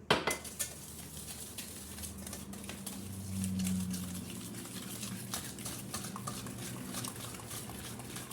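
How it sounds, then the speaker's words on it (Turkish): Yogurt and sugar being stirred together in a bowl for Turkish şambali, a spoon clinking and scraping against the dish in irregular close taps, with a low hum underneath and no talking. "Şekerle yoğurdumuzu karıştırdım."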